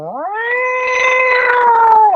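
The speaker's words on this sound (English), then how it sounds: "the cat's cry like it's in this fight or struggle with something" A large wild cat screams near a campsite at night, one loud, drawn-out wailing cry that rises sharply, holds steady and then tails off, heard alone.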